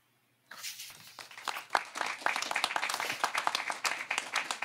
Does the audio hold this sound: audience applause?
yes